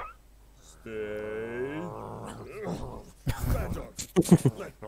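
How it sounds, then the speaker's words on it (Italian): A dog in a League of Legends-related video makes a drawn-out whining, growling howl near and loud, followed by sharp barking-like bursts and other noises. "Effettivamente è un cane"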